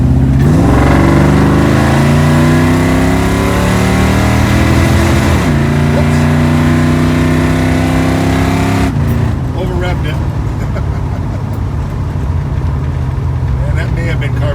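A carbureted car with a Holley carb and vacuum secondaries revs hard while pulling through the gears, its loud engine drone climbing and dropping in pitch, with a gear change partway through and someone talking over it.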